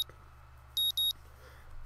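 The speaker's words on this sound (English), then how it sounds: "a painfully loud ringing assaults my ears and I realise it's my clock" An alarm clock in the video game Katawa Shoujo sounds as two short, sharp electronic beeps in quick succession, clear against a quiet background.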